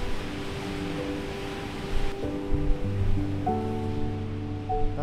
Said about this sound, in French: Je me trouve une falaise au bord de l'océan Atlantique